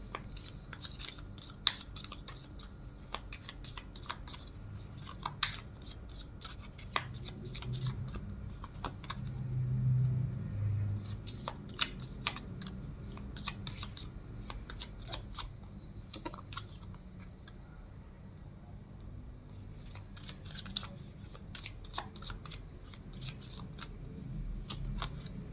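Tarot cards are shuffled and handled close up, producing many quick, crisp flicks and taps in irregular bursts over about half a minute, with no talking.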